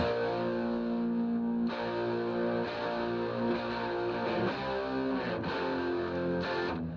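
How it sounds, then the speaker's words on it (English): Heavily distorted electric guitar chords ring out loud and sustained, changing every second or two with thick, buzzing overdrive. "and then the big diamond chords with more distortion."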